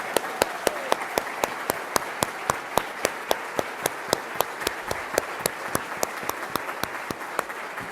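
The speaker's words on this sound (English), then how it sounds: "Now we can applaud" Sparse, evenly spaced hand claps at a preschool ribbon cutting ceremony, a small audience clapping in a steady rhythm for about eight seconds with no talking.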